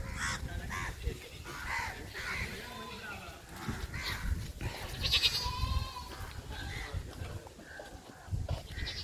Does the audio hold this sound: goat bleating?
yes